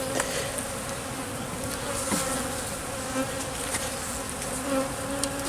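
Steady, dense buzzing of many honeybees at a hive, a continuous drone with a few louder passes close by, no voices.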